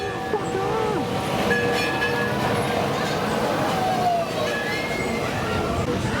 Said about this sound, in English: let's get on the mine train